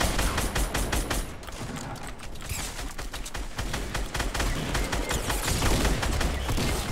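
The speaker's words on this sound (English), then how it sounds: "I'm shooting him" Fortnite gunfire in a dense, continuous rattle of rapid shots, loud and close, running unbroken through the whole stretch without speech.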